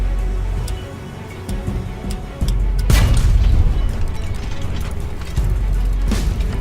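A shell impact explosion in the submarine simulator game Wolfpack during a small convoy attack: a loud, booming burst midway over a steady rumbling background, with another softer burst later.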